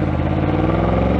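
A Ducati motorcycle engine with a dry clutch idles and revs close by, giving a steady, throaty, pulsing mechanical drone throughout the short moment.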